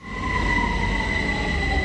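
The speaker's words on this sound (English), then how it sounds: "Thousands packed the trains during London's rush hour this morning" London Underground trains packed during rush hour rumble steadily along the track, a loud, close, continuous drone with a sustained high whine and a rattling low-end rush.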